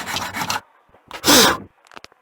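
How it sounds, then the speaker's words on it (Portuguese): A hand file rasps down a wooden part of a 1960s Atma Estey organ being repaired, with two bursts of close scraping strokes separated by a short pause, followed by a few faint knocks. "vai desbastando, ó, com a lima, dá uma rebaixada"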